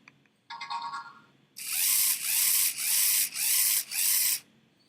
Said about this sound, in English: you can actually hear the pulsing, right? If you weren't sure of what you just heard there, listen for the pulsing of the motors